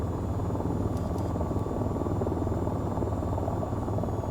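Steady, loud rotor whir and engine drone of an attack helicopter flying in the VR combat game VTOL VR, continuous and close throughout with no voices.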